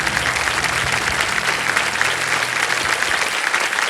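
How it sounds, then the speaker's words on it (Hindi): A television quiz-show studio audience applauds, dense continuous clapping that stays loud and even throughout. "तालियां बच जाए इनके लिए।"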